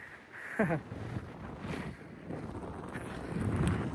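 Gusty desert wind rushes and buffets the microphone with low rumbling swells, and a brief voice-like sound rises early on.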